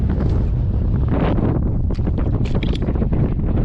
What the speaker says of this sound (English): Starting to get windy up here.